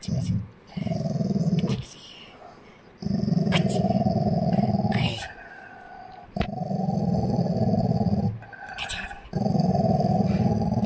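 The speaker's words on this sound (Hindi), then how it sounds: "कभी कभी ऐसे गुर्राती है" Pet Labrador dog growling in repeated long, rumbling bursts separated by short pauses, close and loud, with a person talking in between.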